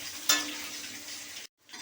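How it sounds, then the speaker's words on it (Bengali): Potatoes fry in hot oil in a pan with a close, steady sizzle that flares briefly after a sharp clink, then cuts out abruptly near the end. "এই আলুগুলো হালকা করে ভেজে নেব।"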